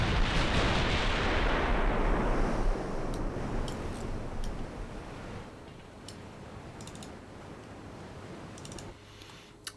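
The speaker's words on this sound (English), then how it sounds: "Immediately opening fire." Naval guns in the game Ultimate Admiral Dreadnoughts fire with a loud, booming blast that rolls out and fades over several seconds, followed by sharp distant cracks of further firing.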